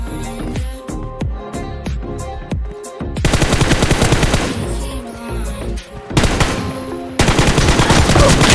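Gunfire in a first-person team deathmatch shooter game, starting as spaced single shots with ringing tails, then giving way to loud rapid automatic bursts that fire in dense stretches with brief pauses between.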